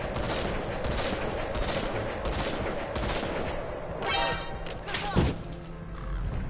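Bursts of gunfire in Metal Gear Solid 5 sound in repeated volleys at a steady pace over a dense, noisy background, with a sharp louder crack near the end.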